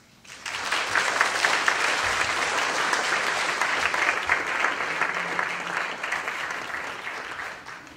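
A lecture audience applauds to welcome Professor Susan Holmes, a Stanford speaker, with a sustained, even wash of clapping from many hands that rises quickly, holds steady and slowly tapers.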